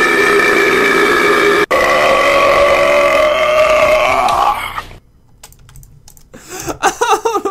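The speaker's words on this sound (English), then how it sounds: "I went and I got a burping sound effect" A long, loud, drawn-out burp from a soda drinker rumbles for several seconds, then fades into quiet clicks of computer keyboard typing.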